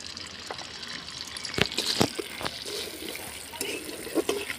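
Panch phoron, a five-spice mix, sizzles in hot oil with a steady frying hiss and scattered sharp pops as seeds crackle, heard up close.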